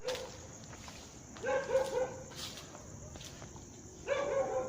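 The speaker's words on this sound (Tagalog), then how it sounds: "Pasensya na po kayo sa aso." A dog barks a few times at a moderate distance, short sharp yaps in two bursts over a steady background hum.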